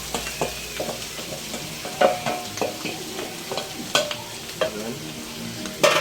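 Bopis fries in a pan with a low, steady sizzle as a spatula stirs it, making repeated scrapes and knocks at an uneven pace, close by. A voice speaks one brief word.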